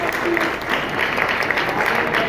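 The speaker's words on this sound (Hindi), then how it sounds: "सब ताली बजा दी" Congregation at an annual church prayer gathering claps together, a dense, loud wash of applause that fills the whole moment without letup.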